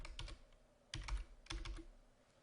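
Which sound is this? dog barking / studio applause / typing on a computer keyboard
typing on a computer keyboard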